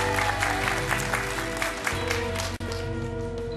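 A TV bingo studio audience gives a short round of applause for a winner, a steady patter of clapping over a continuous musical backdrop, briefly dipping near the end before carrying on.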